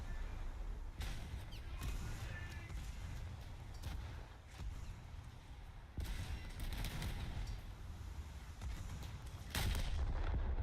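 Naval guns firing at the ship Des Moines in the naval battles of War Thunder, heavy booming shots landing at irregular intervals over a constant low rumble, fairly faint and without talk.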